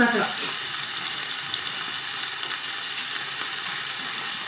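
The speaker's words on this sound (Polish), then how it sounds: "Pieczarki się podsmażają" Mushrooms fry in a pan with a continuous bright, hissing sizzle that stays steady and close throughout, with no talking.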